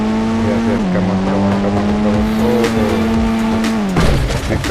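Supercar engine in a car racing video game, a loud steady high rev that holds one pitch, drops with a gear shift and climbs again, continuous and close throughout.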